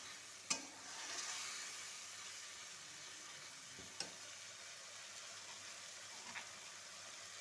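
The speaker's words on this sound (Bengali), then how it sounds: "একটু জল দিয়ে আবার একটু নাড়াচাড়া করে নেব, নাহলে মশলাগুলো পুড়ে গেলে গন্ধটা বাজে হবে" Spices for ghugni are stirred with a little water in a frying pan, giving a faint, steady sizzle broken by a few sharp utensil clicks against the pan.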